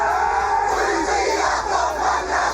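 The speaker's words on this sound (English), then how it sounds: "what you just heard there was the moment that 27-year-old Ngāwai Holoi Te Pō was selected" A large crowd cheers and shouts steadily as a new Māori queen is selected, a loud sustained roar of many voices with no gaps.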